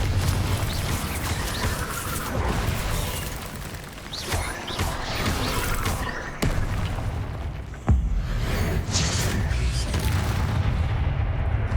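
Repeated Confringo blasting-curse explosions from the Hogwarts Legacy video game, with sharp booming bursts at a couple of points over a dense, continuous rumble of game effects and spellwork.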